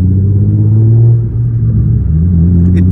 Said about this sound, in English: when I floor it and it gets to the high RPMs